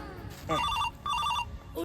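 A telephone rings nearby in two short electronic trilling bursts separated by a brief gap. A quick clipped sound follows at the very end.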